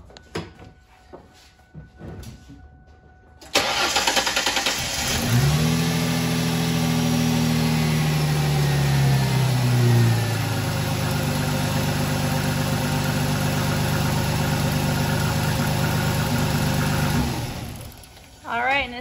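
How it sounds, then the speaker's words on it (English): A car engine cranks briefly with a starter whine, catches and settles into a steady, loud, close idle that runs for over ten seconds before cutting off; no one speaks over it. "So all you have to do for this one is start your engine."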